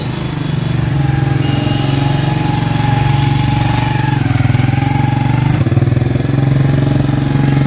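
A motorcycle engine idles steadily nearby, a loud, even throbbing hum that holds constant for the whole stretch without revving, and no voices are heard over it.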